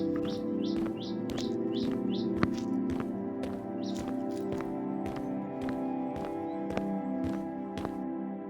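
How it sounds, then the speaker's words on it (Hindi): Quick high bird chirps in a home courtyard repeat every half second or so over a steady low hum, with sharp clicks and taps scattered throughout. "वह आंगन में बैठकर चिड़ियों की आवाज सुनते"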